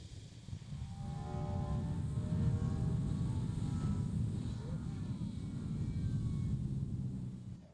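CFMOTO motorcycle engine heard riding on a track, a steady low droning rumble that swells and holds at moderate loudness, with wind noise around it.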